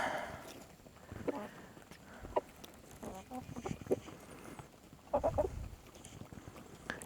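Hens in a backyard coop cluck in scattered short bursts, a few louder calls standing out near the end among quieter flock murmurs, with the hens jostling over pecking order.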